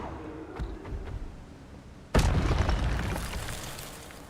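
An Expelliarmus spell in the video game Hogwarts Legacy lands with one sudden, loud boom about halfway through, then a rumbling burst decays slowly. Faint clicks and game noise come before it.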